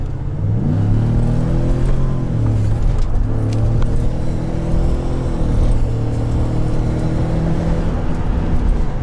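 Ford EcoBoost pickup truck engine under acceleration, heard from inside the cab as a continuous low rumble with the pitch climbing through the gears and a light rattle over it.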